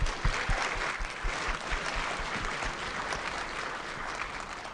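A room of city employees applauding themselves at the Winston-Salem employee excellence awards, a continuous wash of many hands clapping, steady and moderately loud with no gaps.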